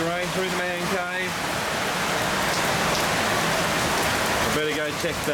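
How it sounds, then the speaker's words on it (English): Heavy rain pours steadily into a shed in a dense, loud hiss, while a voice talks briefly over it at the start and end. "Here comes the rain through the man cave."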